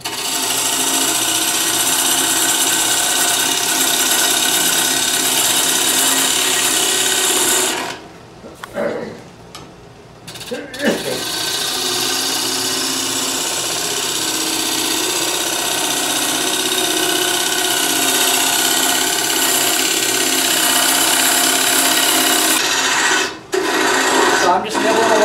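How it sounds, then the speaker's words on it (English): A lathe turns a calabash wooden bowl while a gouge shapes its bottom, a continuous loud rasping scrape that breaks off briefly twice. "I'm going to start shaping the bottom of my bowl."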